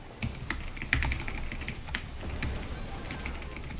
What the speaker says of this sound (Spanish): Teclado.